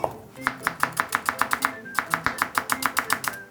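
A knife chops green onion and chili pepper on a cutting board for spicy Korean braised tofu, a quick steady run of about twenty crisp, close taps with a short pause midway and no talking.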